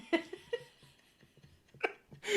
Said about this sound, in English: Did you seriously just burp into the microphone?